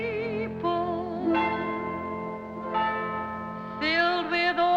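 A church bell tolls in a 1959 television variety show song, with sustained bright ringing notes that swell and fade in several strokes, clear and fairly loud.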